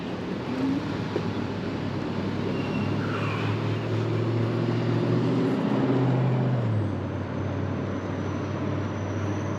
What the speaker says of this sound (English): Bus is behind me again